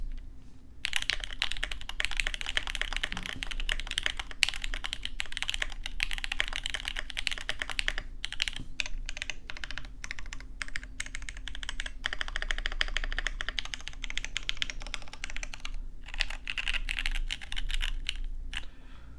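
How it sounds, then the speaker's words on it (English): Steady typing on a Hex.4B 75% mechanical keyboard: rapid, close clacking keystrokes running on without a break and with no voices. "I want to give you an idea of what the Hex.4B sounds like"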